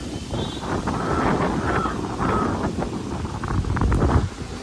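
Strong wind buffets and roars steadily across the whole stretch, a low rumbling gusty noise with no voices.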